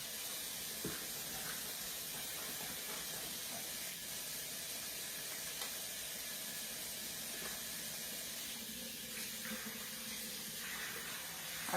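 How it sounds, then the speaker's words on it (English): Hands washed under a running kitchen tap, a continuous splashing water hiss with small clinks and shifts throughout, fairly quiet and unbroken by talk. "Get my hands washed."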